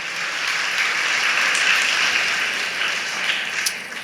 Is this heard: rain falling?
no